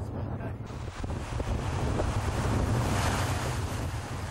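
Small ocean waves wash onto a beach at the far northern tip of Sal island, Cape Verde, as a steady broadband surf roar mixed with gusting wind buffeting the microphone.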